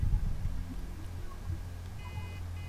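Electronic beeping from a device during a bank heist in the game Payday 2, a few soft tonal beeps near the end of the clip over a low, busy game background.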